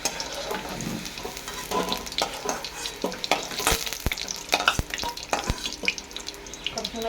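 Fried paneer pieces being lifted out of hot oil for a potol paneer dish, continuous close sizzling broken by stirring scrapes and several sharp clinks of a spoon against the pan.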